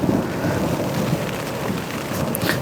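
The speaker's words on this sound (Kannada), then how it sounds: "ಇದು ತುಂಬ ಜೋರಿದೆ ಮಳೆ." Heavy rain pours on a camping tent at night in a forest, a steady, dense hiss and patter that fills the whole stretch with no break, close and loud, and no voices heard.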